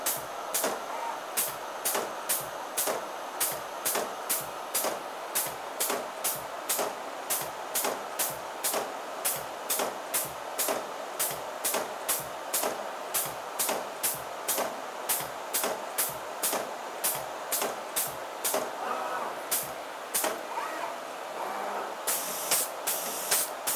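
A CAD packaging cutting table scores corrugated board for insert tray components, producing a regular train of short, sharp hissing bursts about twice a second, steady and fairly close, with a busier flurry near the end.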